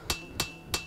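Three evenly spaced metallic hammer strikes ring out on an anvil in the Hammer & Anvil VR game, each a sharp clang with a short ringing decay, close and distinct.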